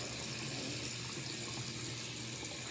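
A faucet runs steadily, filling a basin of water for washing a dog, a constant close hiss of flowing water with no talk over it.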